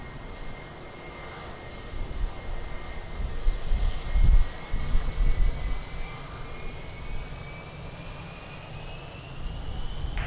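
Airplane taking off at Lisbon Airport on a windy day, a distant engine roar swelling over steady wind noise and then slowly easing off, with a faint rising whine above it.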